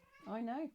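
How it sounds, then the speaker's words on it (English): A house cat gives a single short, rising meow close by, lasting under a second, with a person's voice speaking just around it. "That's my cat."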